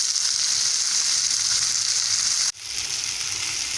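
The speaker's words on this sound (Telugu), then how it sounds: "చూడండి చేపలు ఈ విధంగా వేయించుకోవాలండి పెనం మీద." Fish pieces fry on a pan over a low flame, giving a loud, steady hiss of sizzling oil that dips briefly near the middle and then carries on, with no voices.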